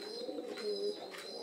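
Pigeons on a pigeon farm give soft, steady cooing, a low murmur with faint higher chirps, fairly quiet and continuous throughout.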